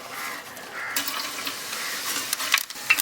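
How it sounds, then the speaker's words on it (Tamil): Fennel seeds dropped into hot oil in a pan, a soft hiss that swells into a brighter sizzle with a few crackling pops near the end, close and unaccompanied by speech. "எண்ணெய் சூடாகிடுச்சுங்க, சோம்பை போட்டுக்குவோம்"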